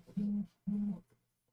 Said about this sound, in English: why is my phone going nuts?